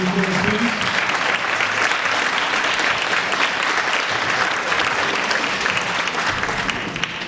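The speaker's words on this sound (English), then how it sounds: "John, give a round of applause, please" A large crowd applauding steadily and loudly, dense continuous clapping that holds for several seconds before easing slightly at the end.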